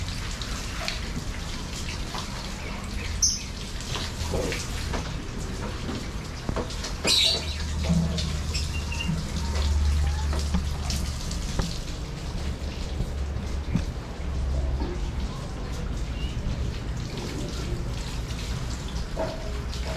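Running water sprays continuously while a 400cc scooter is washed, a steady splashing hiss with a few sharp knocks and no voices.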